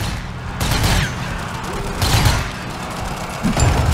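A heavy machine gun fires in heavy bursts in the zombie shooter Zombie Army 4, with booming thuds and mechanical clatter that swell and ease in loud waves.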